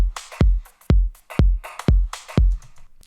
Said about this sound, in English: Pumping here very nicely together with the kick drum.